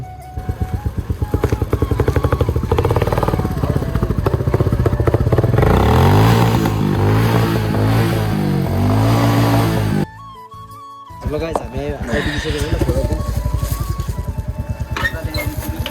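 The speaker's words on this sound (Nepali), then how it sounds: "यहाँ सागर सरको बुलेट बाइक लिएर आएको छु" A Bullet motorcycle engine runs close by with a loud, thumping idle that rises into revving, cuts out briefly near the end, then restarts and chugs on.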